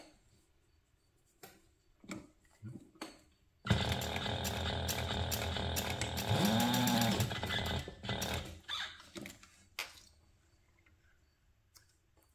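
A sewing machine bastes the ends of a fabric tab, with a D-ring slid on, for a crossbody bag made as a toiletry kit. Scattered handling clicks lead into a steady mechanical run of about four seconds, followed by more soft clicks and taps.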